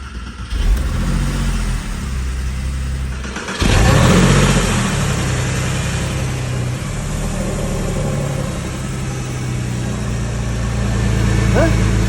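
A Porsche engine cranks and catches, then idles and revs with a loud, steady mechanical drone close by, swelling again toward the end.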